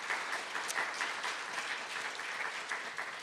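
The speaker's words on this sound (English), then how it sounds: "a big round of applause for them" Symposium attendees applaud the speakers, a full round of clapping from a seated audience, steady and fairly close throughout with no voices over it.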